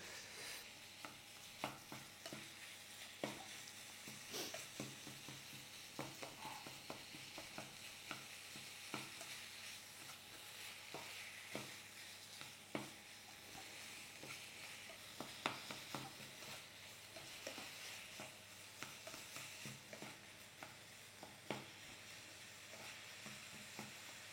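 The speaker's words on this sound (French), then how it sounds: "on arrivera presque à la fin de la cuisson de la viande" Minced meat frying in a pan for hachis parmentier, a steady close sizzle with scattered scraping and stirring clicks, no talk.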